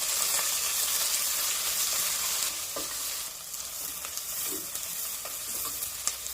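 Onion, curry leaves and green chillies fry in hot oil for a ridge gourd stir-fry, a loud steady sizzle broken by soft scraping stirs and small pops, with no voices.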